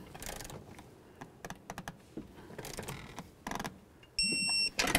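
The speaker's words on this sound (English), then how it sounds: "Torque these to 18 foot-pounds." A torque wrench tightens the brake master cylinder nuts on a 2004-08 Ford F150, giving rapid ratcheting clicks in short bursts, followed by a sharp high-pitched tonal squeal near the end.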